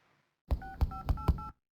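Telephone keypad dialing: four distinct, evenly spaced touch-tone beeps, each sharp and clear, with quiet room tone before and no talking.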